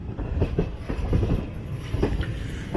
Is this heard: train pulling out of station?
yes